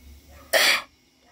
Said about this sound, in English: This is compressed syngas, and we're going to pump this in there.